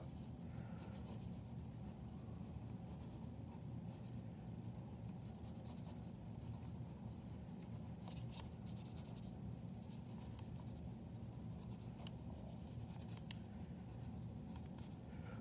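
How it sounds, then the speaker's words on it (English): A pencil sketching rough lettering on paper, a faint continuous scratching and rubbing with a few light taps, close and quiet under steady background hiss. "all this pencil work is pretty rough because I just need lines that I'm going to cut"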